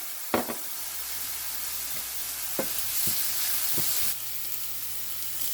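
Chillies frying in hot oil in a pan give a steady, bright sizzle, with a few clacks of a stirring spoon and a brief louder spitting burst partway through.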